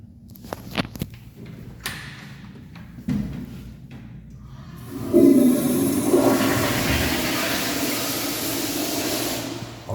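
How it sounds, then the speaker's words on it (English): An automatic toilet in a school restroom flushes after a few quiet knocks and clicks, then a loud rushing, gurgling surge of water that continues steadily to the end. "It just automatically flushes whenever you sit on it."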